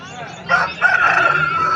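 A fighting rooster at a rooster market in Vijayawada crows loudly and close by, a single drawn-out call rising after a brief pause, with some faint background noise.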